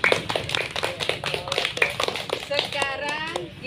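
Children in a classroom clap together in a quick, scattered burst of applause, with voices talking over the clapping.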